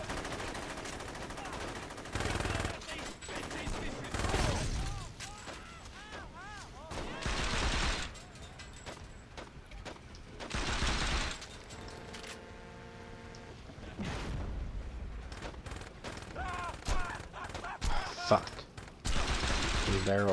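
Bursts of video-game gunfire from Saints Row 2, rapid automatic volleys and sharp shots recurring in clusters with brief gaps, loud and close, mixed with game effects and music.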